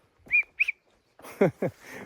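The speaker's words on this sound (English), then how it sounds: "I have my bear whistle" A bear whistle in Glacier National Park gives two short, sharp, clear blasts close by, followed after a pause by rougher, breathier bursts.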